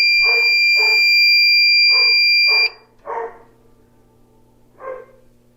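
Smoke detectors on a newly installed fire alarm system return to alarm after being cleared, sounding a steady high electronic tone that cuts off abruptly partway through, while a dog barks repeatedly nearby.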